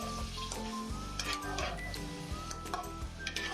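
Chicken pieces frying in hot oil in a pan while being stirred and turned, a steady close sizzle dotted with metallic clinks and ticks of a utensil against the pan.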